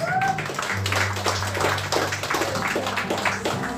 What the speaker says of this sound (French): Applaudissez Jésus-Christ.